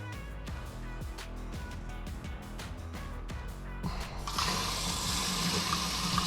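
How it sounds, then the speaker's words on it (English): Water pours from a tap into a sprayer tank, a gushing, splashing fill heard up close, rising in strength and brightness partway through as the flow increases. "So I only added half the water."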